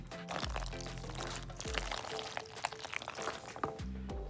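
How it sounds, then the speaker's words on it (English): Blue cheese or ranch dressing, a quarter cup, pours into a pot of pasta with chicken and blue cheese crumbles, a soft continuous glugging pour with a few brief thumps, close and fairly quiet. "we're going to add 1/4 cup of blue cheese dressing or ranch dressing"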